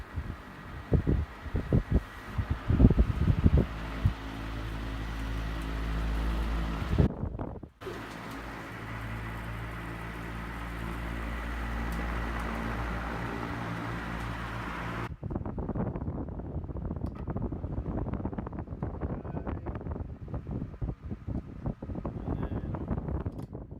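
A Westinghouse 16-inch electric fan hums steadily with a low motor drone and blade whoosh, breaking off briefly before running again and then winding down into a quieter, thinner whir with faint rustling.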